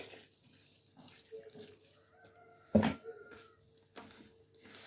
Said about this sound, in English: So this is the milk we are trying to add in.